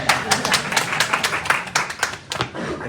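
A small group at a Kwanzaa panel on community violence claps in quick, uneven bursts of distinct, close hand claps that fade out after a few seconds.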